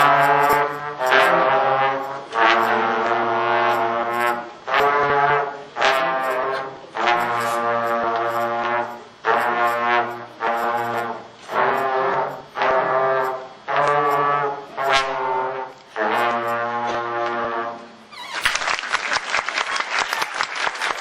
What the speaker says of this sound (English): The trombone has a deep, sad, serious tone.